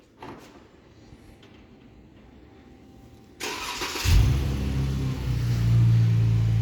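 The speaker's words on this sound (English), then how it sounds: "you have the starter right on the key fob" A 2018 Dodge Charger GT starts up by remote from the key fob, a quiet outdoor hush giving way to a sudden crank at mid-clip and then a loud, steady engine idle that settles and continues close by.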